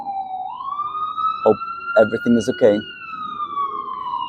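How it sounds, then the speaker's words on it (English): A police siren wails steadily in the background, rising then holding a high sustained tone throughout, while a person speaks briefly over it. "I apologize for the siren behind me."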